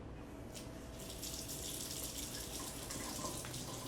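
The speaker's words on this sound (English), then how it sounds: "let me get the hot water running" Hot water runs steadily from a kitchen tap in a home kitchen while a meal is being cooked, a constant close splashing rush with no talking.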